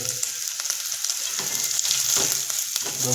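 Ground green chillies, stone-ground on a traditional grinding slab, frying in a pan at home for a fenugreek leaf dish. Steady loud sizzling with occasional stirring scrapes and crackles, no talking.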